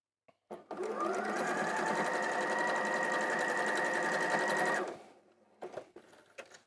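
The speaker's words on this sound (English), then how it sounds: "I'm sewing those 2 triangles together there." A sewing machine runs in one continuous burst, stitching two quilt triangles into a half-square triangle block, with a steady fast mechanical whir, then stops abruptly and a few soft handling clicks follow.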